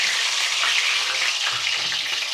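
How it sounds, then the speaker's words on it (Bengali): Eggs frying lightly in hot oil for an egg korma give off a steady, close sizzle that crackles evenly throughout, with no voices over it. "এই তেলের মধ্যে আমি এবার ডিমগুলো ভেজে নেব।"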